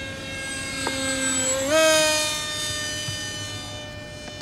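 A radio-controlled model airplane flies past with a steady, buzzing motor whine that rises sharply in pitch midway, then holds and slowly eases off. It sounds moderately close, with no voices.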